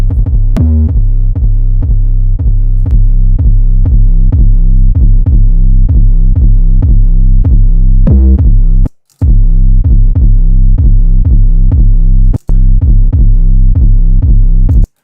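A saturated synth patch with harmonic saturation throbs in a loud, steady low pulse, repeating beats with rich buzzing overtones and two brief dropouts, no voices.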